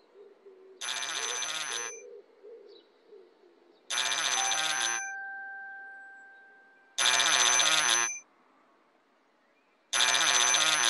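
A telephone rings in a children's TV show, sounding as four loud, evenly spaced electronic ring bursts of about a second each with short gaps, a steady tone lingering between the middle rings.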